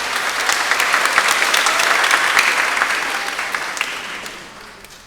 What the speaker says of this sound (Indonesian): Kita beri aplaus mereka.